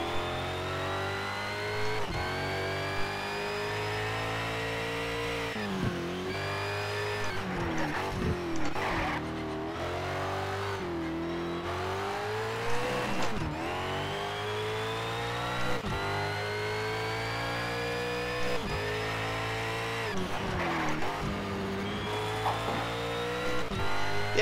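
Race car engine droning steadily through gear changes while driving in Need for Speed Shift 2 Unleashed, a loud continuous whine that rises and drops with each shift, with no talk over it.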